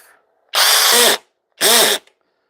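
A Flex compact drill set to a high clutch setting drives a screw in two loud, close bursts of motor whine, each about half a second to seven tenths of a second long, separated by a short pause and with no talking.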